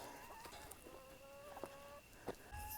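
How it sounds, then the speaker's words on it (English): Chickens cluck and murmur quietly at a short distance, a few drawn-out calls and soft clucks over faint outdoor background. "My chickens!"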